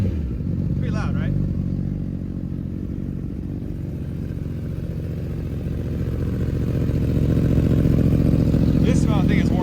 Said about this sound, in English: I'll give it a little rev. Ryan, can you hear that? Pretty loud, right?